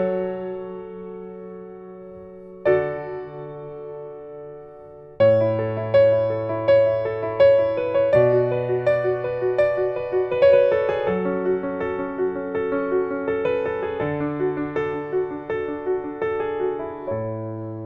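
The piano intro of a pop song plays alone: first sparse sustained notes, then a steady pulse of repeated chords over low bass notes, clear and close for about eighteen seconds.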